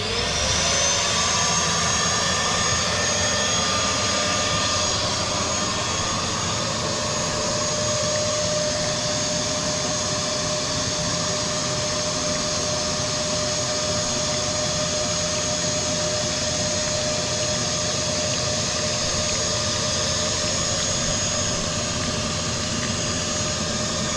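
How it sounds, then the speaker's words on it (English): A vacuum cleaner sucks debris from the bottom of a koi pond through a 1-inch pipe, giving a loud, steady whine and roar that holds unbroken throughout. "one of many hoover attachments that I've borrowed off my wife over the years"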